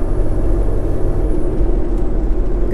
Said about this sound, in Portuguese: O freio motor funcionando.